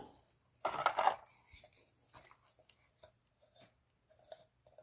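A camping stove is threaded onto a gas canister, giving a short burst of metallic scraping and clinking followed by several faint scattered clicks and rubs in a quiet setting.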